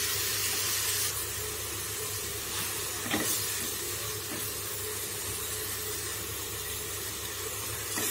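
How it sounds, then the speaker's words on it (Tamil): Ground masala paste sautéing in oil for an oyster mushroom gravy, a steady close hiss throughout with small bubbling pops. "நல்லா வதக்கிக்கலாம், பச்சை வாசம் போகிற அளவுக்கு நாங்கள் வதக்கிக்கணும்."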